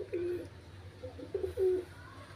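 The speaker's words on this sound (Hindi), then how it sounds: "सो ये रहा हमारा सारा पिजन्स, घूम रहा है बाहर" Pigeons cooing outdoors near their loft, with a few soft, low, throaty coos in short phrases over faint background hum.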